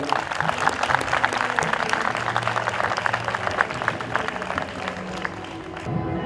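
Loud, sustained applause from a church congregation at a Christmas Day service fills the space, dense clapping running steadily throughout before easing slightly near the end.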